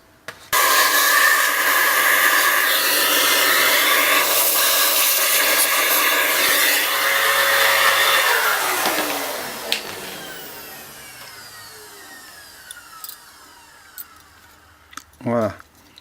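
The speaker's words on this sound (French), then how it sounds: "on va utiliser l'aspirateur pour pouvoir l'enlever." A loud vacuum cleaner roars steadily for several seconds cleaning a laptop cooling grille, then winds down, followed by a few clicks and a brief rattle.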